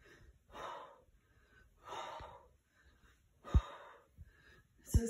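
Quiet, close breaths during a full body workout exercise, spaced exhales and inhales of a few seconds each, with a couple of sharper gasping snorts near the end.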